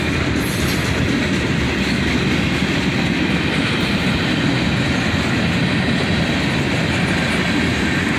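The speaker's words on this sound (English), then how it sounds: "Three locomotives here, a pair of ET44AHs sandwich a YN2" Freight train hauled by three locomotives, a pair of ET44AHs with a YN2 AC44CW between them, rolling past close by in a steady, loud rumble of wheels and cars with faint clickety-clack throughout.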